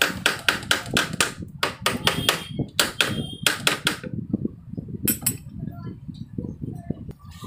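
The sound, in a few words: hammer tapping Symphony air cooler motor to remove it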